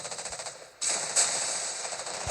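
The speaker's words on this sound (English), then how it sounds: "Yep, there comes the Pensacola shots." Naval gunfire from a Pensacola cruiser in the World of Warships Blitz game, heard as a sharp burst of shots that lifts into a loud, sustained roar and holds steady, with no talk over it.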